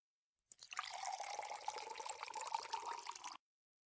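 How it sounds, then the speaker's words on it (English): Pure water pours into an AeroGarden Wealth of Health sprouter in a steady, close trickling stream that lasts about three seconds and then stops abruptly, with no voices. "Pour pure water."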